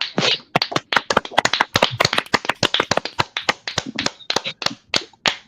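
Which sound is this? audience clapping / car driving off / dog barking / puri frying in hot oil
audience clapping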